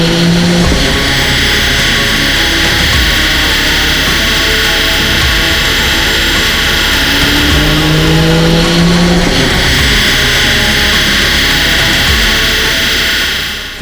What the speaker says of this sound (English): Now that we have finished installing the exhaust, let's put the car back on the dyno to see if there are any improvements